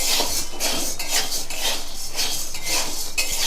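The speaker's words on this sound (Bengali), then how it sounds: "আমি সাবগুনো নাড়াচাড়া করছি এইটা দিয়ে" Two hundred grams of sago pearls being stirred as they heat in a kadai, a steady run of rhythmic scraping and rattling strokes against the metal pan, loud and close with no talking.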